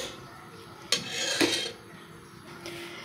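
Tripe being stirred in a metal pot for an Algerian dish: a spoon scrapes and clinks against the pot, with one sharp knock and a longer scraping sweep, close up and without voices.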